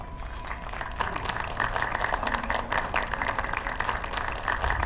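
Applause in a scene from the TV show Good Omens: a dense, steady patter of many hands at moderate loudness, lasting throughout and blended with a faint background tone.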